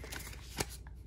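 Pokémon trading cards slide and riffle as they are pulled from a pack, a brief close papery flutter with one sharper snap in the middle, no talking.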